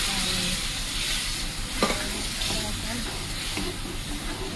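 Dal for a spinach (palak) dal is poured into a hot tempering, giving a steady loud sizzle and hiss with a few stirring clanks partway through.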